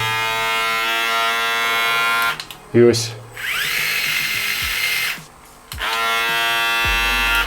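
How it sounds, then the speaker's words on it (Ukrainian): A Metz The Sword electric shaver (MZDF032) buzzes loudly and close with a steady high whine, briefly cut off twice and restarted, while someone says a few words. "я навіть вам можу показати свою бритву, вона значно гучніше працює"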